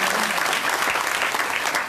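An audience at a gathering for a revered guru applauds, with dense and steady clapping throughout the short stretch and no talk.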